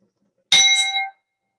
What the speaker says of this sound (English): invite you to follow the sound of the chime until you can no longer hear it